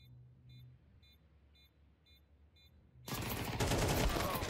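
Rapid gunfire in a Counter-Strike match from a BLAST Premier Fall game between Vitality and Heroic breaks out suddenly and loudly after a few seconds of quiet game beeps, then continues as a dense, sustained volley.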